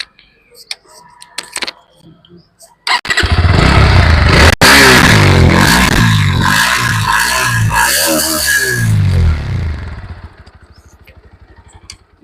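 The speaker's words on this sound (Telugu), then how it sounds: "ప్రజెంట్ మనం ఇప్పుడు ఇంజన్ సౌండ్ ఎలా ఉంటుందో చూపిస్తాను మీకు" A Bajaj Pulsar NS 160 motorcycle engine starts after some faint clicks, then runs loud and close with rhythmic revving, the throttle blipped repeatedly before it settles back toward idle.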